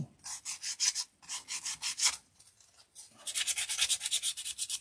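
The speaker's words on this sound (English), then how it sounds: "So I'm gonna just sand these edges just to give it more of a vintage look" Wooden cabinet edges are sanded by hand to look vintage, with close, rhythmic rasping strokes in three quick bursts separated by short pauses.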